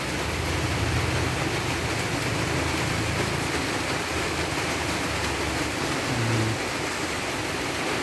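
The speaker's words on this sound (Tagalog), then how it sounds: "Hinto-hinto. Ulan na malakas tapos hinto." Steady rain falls over a rural farm in the provinces, a constant dense hiss that holds at the same loudness throughout with no one speaking.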